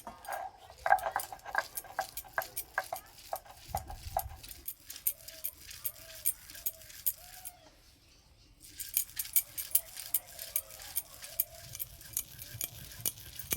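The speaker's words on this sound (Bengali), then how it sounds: "এই যে বাঁটছি" Cauliflower leaf and garlic paste being ground on a grinding stone, heard close as a steady run of short scraping and clicking strokes that pause briefly near the middle before resuming.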